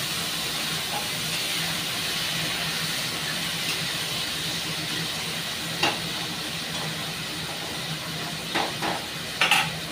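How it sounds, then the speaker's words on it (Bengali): Okra (bhindi) frying in a pan after a splash of water, making a steady, moderately loud sizzle and hiss, with a few sharp utensil clinks against the pan near the end. "দেখো ভেন্ডির মধ্যে আমি হালকা একটু জল দিয়ে দিলাম"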